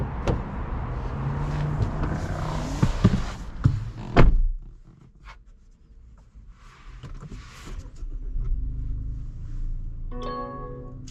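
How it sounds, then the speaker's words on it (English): 2021 Mazda CX-30 compact SUV starting off, with a thunk and cabin mechanism sounds followed by a low, steady engine hum as it pulls away, heard from inside the car. "let's take the CX-30 out and see how it drives."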